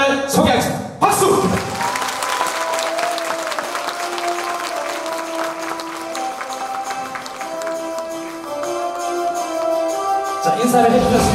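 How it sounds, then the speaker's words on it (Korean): A hall audience applauds as a traditional performing troupe is introduced at a singer's album launch, steady clapping with scattered cheers, briefly interrupted by a short burst near the start and swelling again at the end. "박수!"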